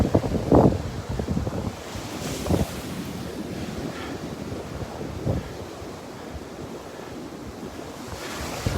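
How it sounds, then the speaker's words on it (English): Strong gusting wind buffets the microphone on a Gulf beach at Delnor-Wiggins while surf rolls and washes in steadily, loud and close, with rumbling bursts of wind. "Oh, that wind is wicked."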